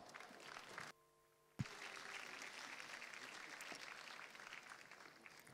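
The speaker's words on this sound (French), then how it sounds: "De timides applaudissements," Faint, timid applause from a small audience at a show-jumping event in Paris rises after a brief gap and continues as a soft, scattered patter of clapping.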